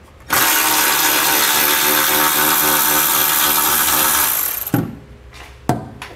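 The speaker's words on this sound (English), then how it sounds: "you'll remove all of those with a 13 millimeter socket" A power tool drives a 13 mm socket on fasteners while installing a fifth wheel kit on a 2020 Chevy/GMC truck frame, a loud steady high whir for about four seconds, then two short bursts.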